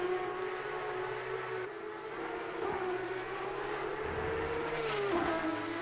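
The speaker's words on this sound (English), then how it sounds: "Engine sound on point." Porsche Cup race car engine in a racing game at Spa-Francorchamps, a continuous loud drone whose pitch rises and falls steadily through the gears, with no voices.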